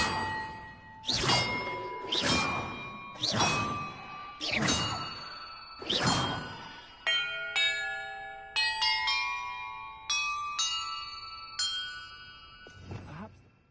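Bells in the Hogwarts Legacy video game struck one after another, five loud clanging rings at a steady pace, then a faster run of lighter ringing tones that hang and overlap before one last strike.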